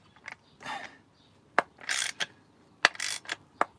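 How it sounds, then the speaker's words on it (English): Ratchet clicks and squeaks as a 19mm deep impact socket pulls a bearing cold into the crankcase of a Stihl 026 chainsaw, with sharp separate clicks and short bursts of mechanical scraping, close and clear. "So I can get my big 19mm socket on there. I'm using a deep impact on this side just to pull it through"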